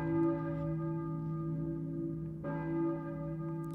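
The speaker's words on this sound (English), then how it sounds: "A church bell, maybe? Who is ringing the bell?" A church bell in the video game Silent Hill rings with long, sustained tones, struck again partway through, its hum lingering steadily at a moderate distance.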